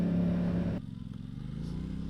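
An Aprilia RS 660 motorcycle engine hums steadily while riding, a loud low drone that drops in pitch partway through and carries on under faint background sound.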